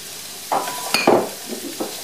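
Potatoes and butternut squash frying in a pot and being stirred, a few scraping utensil strokes and clinks over a low sizzle, close by with no talk.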